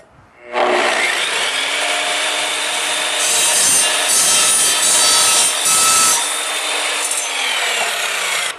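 Evolution Rage3 sliding miter saw cutting through aluminum tubing: the blade spins up, then a loud, sustained grinding, rasping bite runs for about eight seconds with shifting intensity before it winds down.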